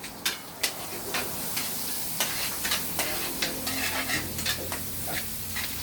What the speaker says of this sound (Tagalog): nagigisa siya ng bawang at sibuyas